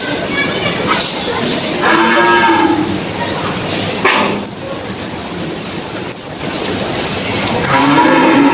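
Large Sahiwal and black Friesian cattle at a dairy farm moo repeatedly, loud and close, with several long bellows while someone talks over them.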